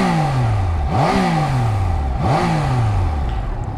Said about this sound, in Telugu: సో ఫస్ట్ ఇన్స్టెంట్లీ ఆన్ చేయగానే ఆ రిఫైన్మెంట్ ఇన్లైన్ 3 సిలిండర్ సౌండ్ అయితే వస్తుంది.